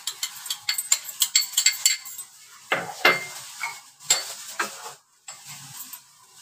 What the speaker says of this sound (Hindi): अब मैं आपको मैरिनेट करके बताऊंगी कैसे कलेजी को मैरिनेट करते हैं।